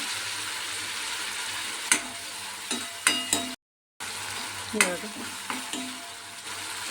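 Chopped tomato frying in a pan for a drumstick bhaji gives a steady close sizzle. Several sharp clinks and scrapes of stirring break through it, and the sound cuts out briefly partway.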